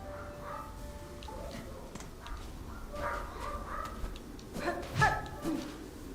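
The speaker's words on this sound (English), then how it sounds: "What was all the yipping and yelping about?" Creature yips and yelps in Hollow Knight: Silksong, a few short sharp cries rising near the end over a low game ambience, fairly faint.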